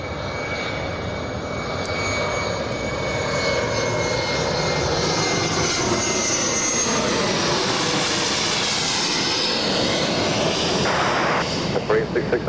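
Airliner landing on runway 24 left at Los Angeles International Airport, its engine roar swelling steadily from moderate to loud over several seconds as it nears, with faint voices in the background.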